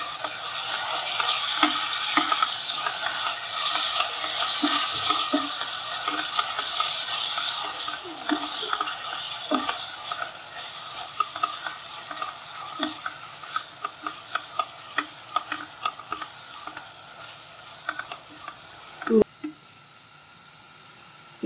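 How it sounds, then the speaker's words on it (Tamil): Tomatoes fry in a pan for a white chickpea curry, a steady close sizzle with frequent spoon stirs and scrapes, tapering off near the end. "இப்போ வந்து தக்காளி போட்டுக்கலாம்."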